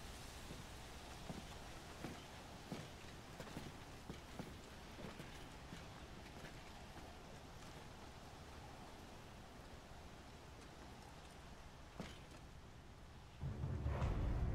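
Steady stormy rain hisses through a Final Fantasy 16 scene, with scattered sharp crackles and a couple of louder bursts, ending in a deep rumbling swell of thunder near the close.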